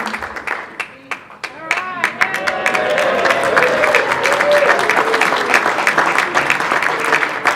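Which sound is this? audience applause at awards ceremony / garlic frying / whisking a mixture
audience applause at awards ceremony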